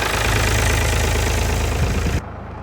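Farm tractor diesel engine running at a loud, close idle with a steady rhythmic chug and knock, then dropping abruptly in level near the end.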